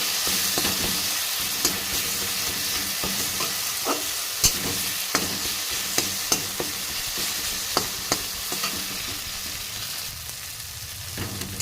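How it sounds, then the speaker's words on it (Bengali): Spice masala stir-fried in a pan for a fish dish: a steady oily sizzle runs throughout, broken by repeated sharp spatula scrapes and clinks against the pan, close and fairly loud, with no talking. "এই মশলাগুলো দিয়ে খুব ভালোভাবে কষিয়ে নেব"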